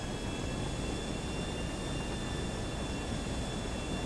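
Aircraft engines in the video game GTA 5 give a steady, unbroken jet-like roar with a faint high whine, holding at an even loudness throughout with no voices.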